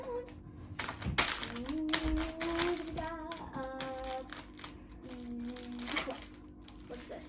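Plastic candy packets crinkle and rustle as they are shuffled around on a surface, with scattered crackling handling noises and a voice talking over them throughout.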